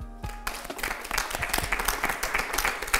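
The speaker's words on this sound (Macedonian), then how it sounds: "Овде треба тоа аплауз да следи" Studio audience applause on a Macedonian TV game show, a dense sustained patter of many hands clapping that starts after a brief quiet moment and carries on steadily to the end.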